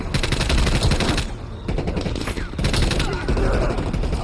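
Heavy automatic gunfire in the Call of Duty Cold War video game pours out in loud, dense bursts, with a brief lull before the shooting resumes.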